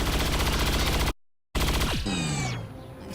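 Sharpshooter gunfire in the XCOM 2 video game: a dense burst of shots and rattling, then a short gap of silence, then more firing that gives way to sweeping, descending whines as the sound fades.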